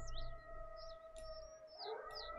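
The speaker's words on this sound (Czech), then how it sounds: "Takže tady někde budou vlci." Wolves in the hunting game The Hunter: Call of the Wild give faint distant howls, rising and falling in several short wavering calls over a steady low background hum, no talk.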